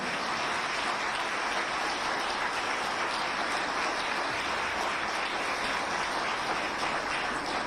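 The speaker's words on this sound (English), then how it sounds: "How about a round of applause for all of our candidates here tonight?" Applause for candidates at a mayoral candidate forum, a soft, even wash of many hands clapping, distant and faint, continuous throughout with no speech.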